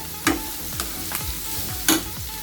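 Small shallots sizzle steadily in a pan for a mutton roast, close and loud. A spoon stirs and scrapes through them every half second or so, with a couple of sharper knocks.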